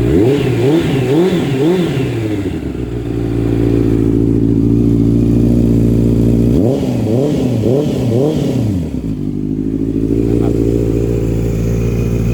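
A 2019 Honda CBR650R motorcycle engine is revved in quick throttle blips, pitch surging up and down in two bursts over a steady idle, loud and near.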